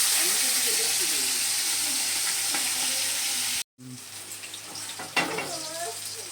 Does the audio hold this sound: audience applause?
no